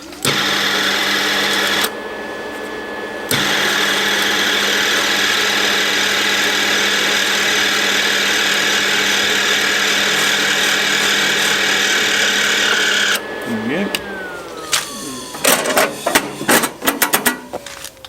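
An angle grinder fitted with a flat disc runs steadily over welding on a van, a loud continuous whine that cuts out briefly, then stops and trails into clatter and handling noises.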